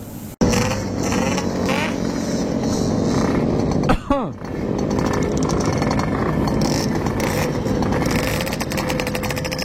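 A Yamaha RX King two-stroke motorcycle rides fast at night in Jakarta, its engine screaming in a loud, raspy, steady drone up close. One sharp pop and a brief dip in pitch come partway through.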